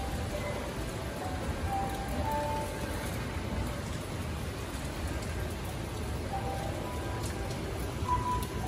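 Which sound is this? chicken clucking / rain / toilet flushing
rain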